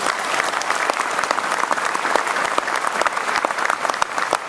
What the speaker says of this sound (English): So how about a round of applause for Wilbur?